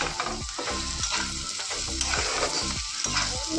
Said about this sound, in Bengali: ডিমটা ভাজি,